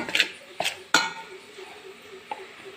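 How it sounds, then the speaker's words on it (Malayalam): Spoon clinks and scrapes against a pan while pepper and sauce are stirred into potato chilli, three quick knocks up front and a lone tap later, close and fairly quiet. "നന്നായിട്ട് മിക്സ് ചെയ്യുക."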